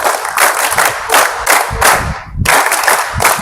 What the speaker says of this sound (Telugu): ఆర్సిటీకి మనందరం కూడా ఒకసారి క్లాప్స్ కొడదాం